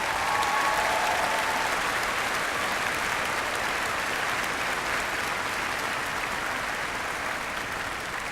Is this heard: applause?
yes